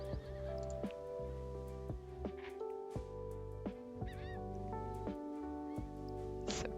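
A black horse in the Star Stable Online video game whinnies a couple of times, its neighs rising above steady game background music.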